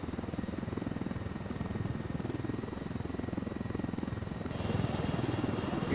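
Helicopter from the Ghost Recon Wildlands video game, with a steady, loud rotor chop and engine drone running through the whole stretch and swelling slightly near the end.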